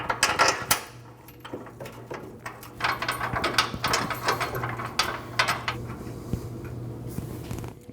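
Ratchet wrench cranking down three 24mm steering box bolts on a 2012-2021 Nissan NV2500 during a pitman arm replacement: close, repeated clicking bursts of the pawl with metallic knocks, steady hum underneath.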